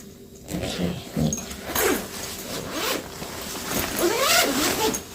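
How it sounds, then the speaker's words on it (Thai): The bottom zipper of a Doraemon expandable bag from a 7-Eleven premium range is pulled open in several close, scratchy zipping strokes, loud and repeated over about five seconds. "ก็คือพอเรา แกะซิปด้านล่างนะคะ เขาก็จะยืดตัวออกมา"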